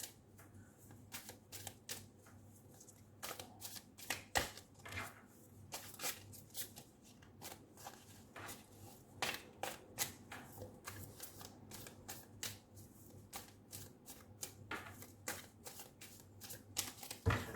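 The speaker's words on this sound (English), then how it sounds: "I'm going to shuffle the tarot cards." Tarot cards being shuffled by hand, a quiet, close series of quick papery riffles and taps in irregular bursts, repeating throughout with no talking.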